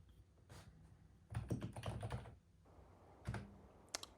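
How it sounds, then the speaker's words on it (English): An ITX-Llama retro PC's hard drive clicker emulates disk activity while booting DOS from an SD card, giving bursts of quick, soft ticking clicks in uneven clusters with short pauses, close and fairly quiet. "You can hear the hard drive clicker since we're running off the SD card."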